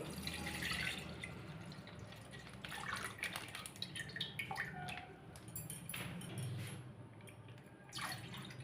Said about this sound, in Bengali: দুধ কড়াইয়ের মধ্যে ঢালা হলো।